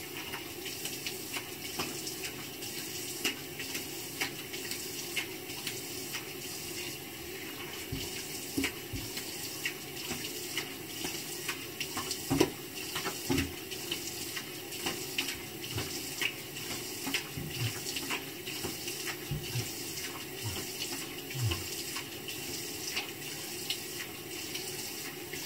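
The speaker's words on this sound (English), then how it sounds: "First of all, I need to rinse my face off." Tap water runs steadily into a bathroom sink for about 25 seconds while a face is rinsed before shaving, a constant close splashing hiss with occasional louder splashes and drips and no talking.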